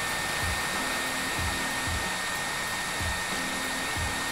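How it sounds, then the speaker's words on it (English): A hairdryer blows steadily at close range to soften a vinyl skin on a Samsung Galaxy A50 phone, a loud continuous whooshing drone with a faint periodic pulsing, no voices. "use the hairdryer at the top until the material softens up"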